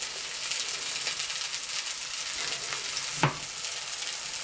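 Haddock pan-frying in coconut oil gives a steady, fairly quiet sizzle, with one brief sharp clack from the pan near the end and no talk.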